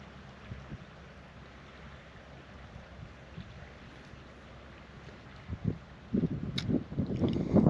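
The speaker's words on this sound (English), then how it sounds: "It's a little windy." Wind at a mountain lake on Colorado's Grand Mesa blows steadily with low rumbling gusts, growing louder and buffeting the microphone toward the end, without talk.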